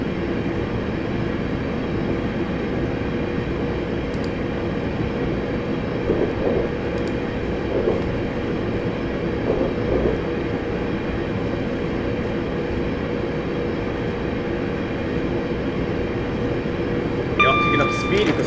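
An electric train in Train Simulator 2018 running on the line between Bromley South and London Victoria, giving a steady, continuous rumble and hum, with a brief high tone near the end.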